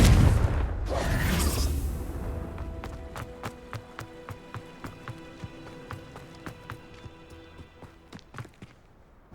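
A Confringo blast spell in Hogwarts Legacy bursts with a deep, rumbling boom, then fades into a steady run of light, evenly paced footsteps.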